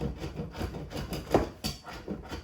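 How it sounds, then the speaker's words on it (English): Cold solid coconut oil grated by hand for an apple pie crust, giving rapid close scraping rasps in an uneven rhythm, alone without talk. "So now I have my cold coconut oil, and I'm going to grate it"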